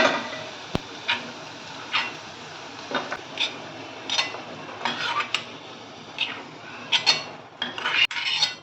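A utensil scrapes roasted grated coconut out of a metal pan onto a plate while a prawn masala is cooked, giving close, dry rasping strokes repeated roughly once a second, with a sharp clink or two and no talking.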